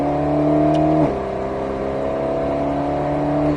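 A steady Alpine A110 S engine drone on a racing circuit holds a high pitch, dips briefly, then keeps humming before easing off at the end.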